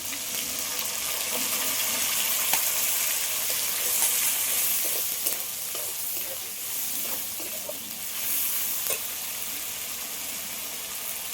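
Spice paste frying in a pan and being stirred, a steady bright sizzle hissing throughout with soft, irregular scrapes underneath.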